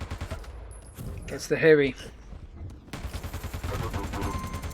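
Machine gun fire in an arena shooter's 2v2 team deathmatch, a fast rattling burst running through the clip under a commentator's voice, with a loud shot-like hit near the middle.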